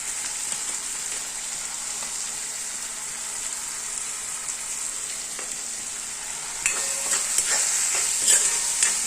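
Mushroom gravy seasoned with salt, turmeric and spices frying in hot oil, a steady close sizzle with light stirring scrapes that grow busier and louder toward the end.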